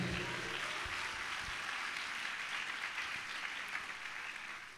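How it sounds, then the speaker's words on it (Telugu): A church congregation clapping together during a worship service, a broad steady wash of hands lasting throughout, fairly distant and moderately loud, with no talk over it. "చప్పట్లు కొట్టి దేవుడు మహిమపడదాం గట్టిగా"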